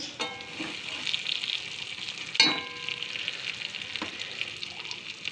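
Fesha fish curry with brinjal sizzling in oil in a pan, a soft, steady frying crackle with a sharp utensil clank near the middle and a few light stirring taps, quiet and close.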